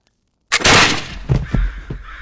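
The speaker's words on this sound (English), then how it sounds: "The watching crows fled from their perch atop the mast" Crows caw loudly and harshly after a moment of silence, a close burst of several rough calls in quick succession.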